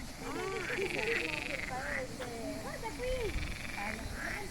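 Frogs croak continuously in a dense chorus in a forest, overlapping calls rising and falling, with a person speaking faintly over them.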